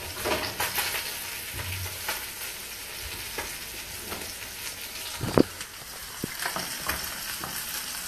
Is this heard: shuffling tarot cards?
no